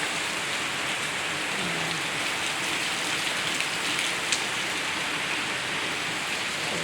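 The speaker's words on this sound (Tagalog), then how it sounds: "Walang tigil ang ulan." Steady heavy rain pouring down, a dense continuous hiss of drops hitting surfaces with no voices, constant and close throughout.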